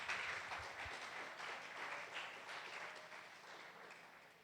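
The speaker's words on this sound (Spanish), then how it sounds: "Dele ese fuerte aplauso al Señor Jesús." A church congregation applauds in a steady wash of clapping that holds for several seconds at moderate level, gradually thinning toward the end.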